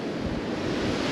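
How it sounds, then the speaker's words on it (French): Strong wind roars across a beach during surfcasting, a dense, steady rush of broadband noise buffeting the microphone with no voices. "il y a du vent, hein. Il y a beaucoup de vent."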